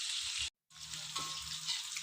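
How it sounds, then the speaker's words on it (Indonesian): Tofu fries in a pan until browned, giving a continuous bubbling sizzle that cuts out for a moment and then resumes at the same steady level. "Ini tahunya digoreng sampai kecoklatan kayak kentang ini"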